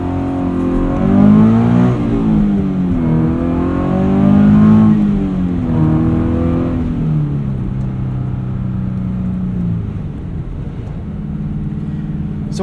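A Subaru BRZ on skinny winter tires pulls out of a deep-snow driveway, its engine heard from inside as a loud, steady drone that rises and falls as it revs and shifts.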